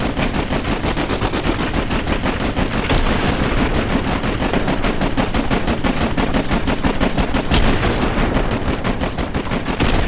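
Sustained rapid automatic gunfire in the Fortnite video game, loud and dense, with continuous overlapping shots rattling for about ten seconds without pause.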